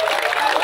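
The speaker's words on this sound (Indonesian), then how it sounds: "Sing ngerti Kampung Baru tepuk tangan." Short burst of audience applause from a crowd gathered for a community discussion gathering, a dense steady patter of clapping without a clear start or end.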